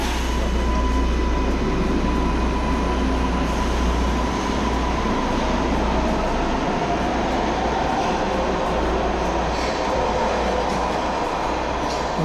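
MARTA subway train departing Decatur station in Atlanta, a loud continuous rumble and hum of the cars with faint rattling and clicking as it pulls away underground, with no talking.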